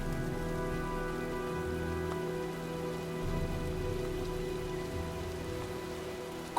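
Video game storm ambience of steady, dense rain pattering on surfaces with a low continuous rumble underneath, even and unbroken throughout, with no voices.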